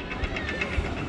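Amusement park ride trains rumble past on their track with rhythmic clatter and a continuous rolling roar, heard at moderate distance in an outdoor park setting.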